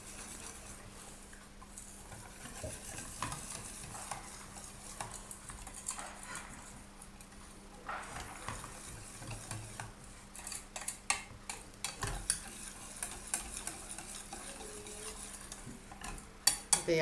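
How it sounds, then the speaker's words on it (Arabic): A spoon stirs cocoa powder into melted butter for homemade cocoa bread, making soft, continuous scraping and swishing close by, with a few sharper clinks near the end and no talking. "الزبده نتاعنا ذايبه نحطو في وسطها الكاكا ونخلطو مليح"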